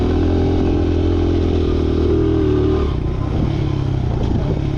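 A motorcycle rides through deep sand, its engine droning loud and steady up close with clattering and scraping, and the pitch drops partway through as the revs fall.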